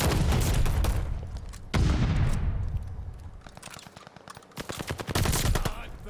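Gunfire in a ranked online shooter game, with loud, close bursts of rapid automatic fire, one heavy boom-like shot with a long fading tail, then a quieter stretch before another fast volley of shots.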